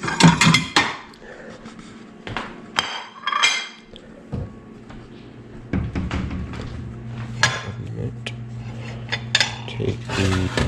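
Food is moved from a pan onto a plate with a spatula: a run of metallic clanks, scrapes and clinks, loud at first, then quieter scraping over a low kitchen hum.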